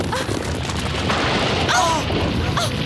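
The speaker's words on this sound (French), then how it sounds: "Par Horus! Un tremblement de terre!" A continuous deep rumble fills the scene like an earthquake, loud and steady, with faint higher cries or squeals briefly over it.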